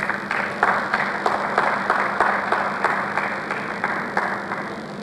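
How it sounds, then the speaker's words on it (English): An audience at a public forum on corruption in Nigerian higher education applauds, a dense rolling wash of clapping with rhythmic pulses, steady and fairly loud throughout. "Could you please give her a round of applause?"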